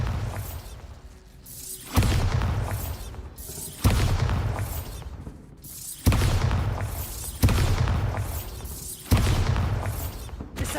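Bombarda explosion spell cast repeatedly in Hogwarts Legacy: six loud, sharp blasts spaced about two seconds apart, each a sudden boom that trails off into a crackling rumble before the next.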